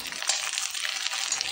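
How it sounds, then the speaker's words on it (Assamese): Papad crisping in hot oil makes a steady, close sizzle with fine crackles and bubbling, with no voices over it. "আজি ঠিক তেনেদৰে ময়ো চাহ খাবলৈ এয়া পাপৰ ভাজি আছোঁ"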